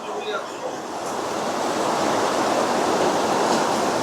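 Floodwater rushing around the Bhattarika temple, a loud, continuous roar of churning water that swells slightly and holds steady throughout.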